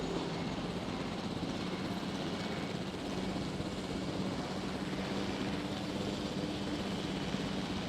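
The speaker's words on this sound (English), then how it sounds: "Can we fly the helicopter? Space to take off. Space to ascend." Helicopter lifting off in the video game Jurassic World Evolution, a steady broadband rotor and engine roar holding at an even level throughout with no talk over it.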